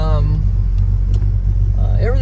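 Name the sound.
1970 Plymouth GTX 440 engine running with a lope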